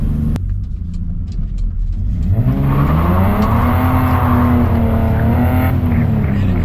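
A BMW E30's limited-slip differential whines badly, rising and falling in pitch over a steady engine rumble and road noise, loud and continuous from inside the moving car on winter backroads.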